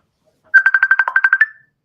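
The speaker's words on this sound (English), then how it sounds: "I'm so pissed off at how much my phone has actually been constantly ringing." A mobile phone ringtone sounds once, a quick burst of about ten bright, evenly spaced electronic beeps lasting around a second, loud and close against near silence.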